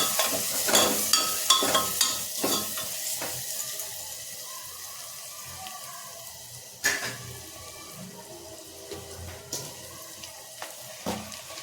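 Turmeric is stirred into soybean khichdi in a pot, with scraping spoon strokes and clinks over a soft background sizzle, busier at the start and then sparse, with no voices.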